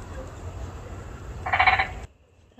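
Frogs or toads croaking at night from a pond, a steady low chorus with a brighter burst of calls near the middle that stops abruptly, leaving quiet.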